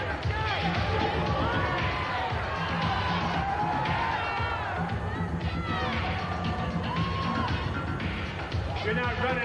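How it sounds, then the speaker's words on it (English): A crowd at the 1986 IFBB World Championships bodybuilding contest cheers, whoops and applauds in a dense, continuous roar while an announcer talks over it. "You're not running out of applause yet, are you?"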